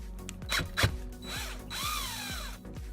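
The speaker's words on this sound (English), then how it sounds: "I have 13 holes I'm going to drill around the edge" A small power drill boring holes around the edge of an X-Wing Jumpmaster 5000 miniature, a steady close whine running throughout with a brief louder burst near the start and a rising, wavering pitch as the bit bites in.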